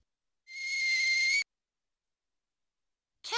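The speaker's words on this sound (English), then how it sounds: "A kettle makes a whistling noise." A kettle from the phonics video game I Love Phonics gives a single clean, steady whistle lasting about a second and stopping abruptly, followed by silence and the start of another sound.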